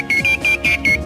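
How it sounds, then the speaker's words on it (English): RADWIN 2000 series radio outdoor unit emitting alignment beeps that indicate signal quality: a rapid run of five short, equal electronic tones in quick succession, loud and clear with no talking. "One beep and pause means no change in signal. Two beeps and a pause means signal quality increased."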